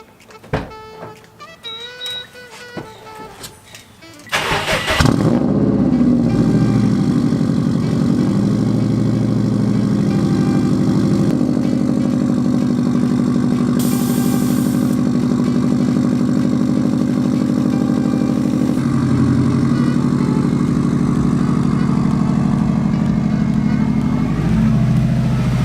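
A lowered Subaru WRX engine starts up in a garage and then runs steadily at a loud, close idle as the car is moved out, with a few brief rev changes and no talk over it.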